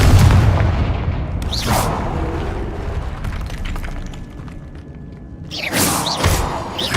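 Booming blasts from the Confringo fire spell in Hogwarts Legacy, deep heavy explosions with rumbling tails, one early and another near the end, loud and close with crackling debris between.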